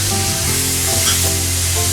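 Chopped tomatoes frying in a pan with onion paste for a Tamil aloo matar sabji, giving a loud, dense, steady sizzle that fills the whole short moment without any voices.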